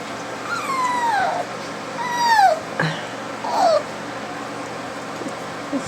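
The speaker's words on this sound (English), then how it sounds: "When they get tired, they start whining." Entlebucher puppies whining in a series of rising and falling high-pitched whimpers, close and fairly clear, with a short yip among them over a quiet indoor background.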